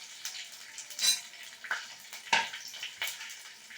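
Crushed garlic drops into hot tempering oil for South Indian sambar, giving bursts of crackling sizzle and spatter with a few louder pops, close and steady with no talk.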